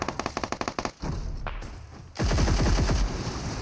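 Rapid automatic gunfire rattles in a PUBG Mobile match, with a quick burst of evenly spaced shots followed by a pause and then a louder, denser stretch of sustained firing.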